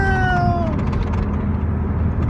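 A single short cat meow used as a story sound effect, loud and close, its pitch sliding downward before fading into a low rumble.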